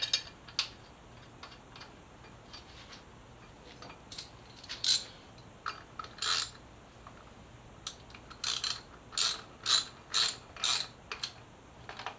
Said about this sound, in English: Get a couple bolts in place just to hold it.